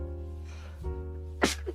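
A single short, sharp sneeze bursts out near the end, close to the microphone, over a steady low electrical hum in a quiet room.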